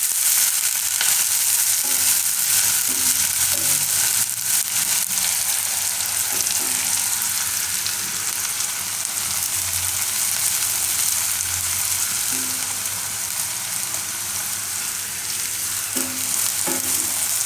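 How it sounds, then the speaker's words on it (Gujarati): Onion frying in oil for a Gujarati parval oro, a loud and constant hiss of sizzling close up, with a few faint stirring taps and no talking. "ડુંગળી થોડીક વાર તેલમાં પકવા દેવું."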